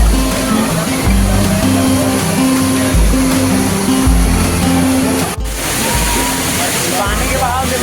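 Fast-flowing river water rushes loudly and continuously near Mata Anasuya in Chitrakoot, a dense, steady roar with a voice talking over it.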